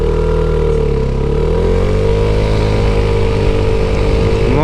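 Vespa 300 GTS scooter engine pulling away and accelerating on a test drive, a steady loud drone with rising and shifting engine tones throughout, no talking.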